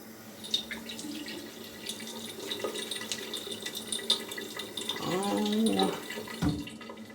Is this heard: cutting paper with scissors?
no